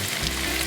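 Green chilli goes into hot oil with onion for a Malabar masala, a brief, loud, close burst of continuous frying sizzle.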